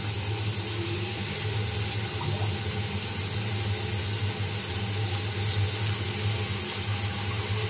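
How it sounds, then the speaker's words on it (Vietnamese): A slowly draining clogged bathroom washbasin gives a steady, continuous wash of running, gurgling water, close and even in level throughout, with no voices. "nó chảy rất là chậm, nó bị nghẹt rồi."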